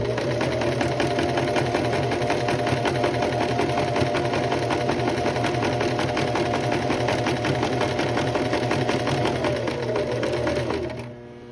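A sewing machine stitches steadily and loudly to close an open seam on a dress, the fast needle rhythm running without a break for about ten seconds before winding down and stopping.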